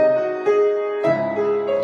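A piano plays Beethoven's Moonlight Sonata, Op. 27 No. 2, clumsily, with uneven, halting notes that shift pitch about every half second in a short, hesitant phrase.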